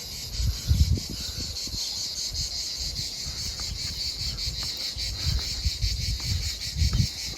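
Cicadas in the Tuscan countryside near Certaldo keep up a loud, steady, continuous shrill drone throughout, with faint low rumbles and a little handling noise underneath.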